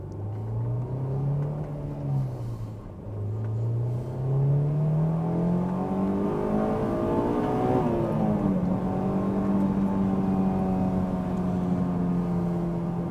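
An AP2 Honda S2000 engine with a K&N intake revs steadily upward, its pitch climbing and dipping as the throttle rises and falls, loud and close with no talking.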